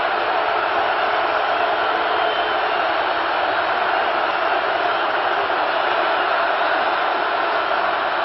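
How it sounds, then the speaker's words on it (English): The home crowd at a Nebraska college football game against Northwestern in 2015 roars as one steady, loud wall of cheering, dense and unbroken from start to finish. "this Nebraska defense and this crowd getting them hyped and excited for this series."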